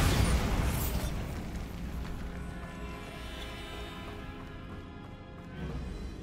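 A Bombarda spell explosion in Hogwarts Legacy bursts loudly at the start, then decays into a long rumbling tail that fades, with a smaller swell near the end.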